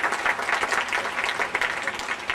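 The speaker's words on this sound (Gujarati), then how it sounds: "આપના મંત્રીશ્રીને પણ તાળીઓના ગડગડાટથી વધાવી લઈશું." Dense applause from an audience at a wedding reception ceremony, steady and continuous throughout, fairly close and filling the whole moment without a break.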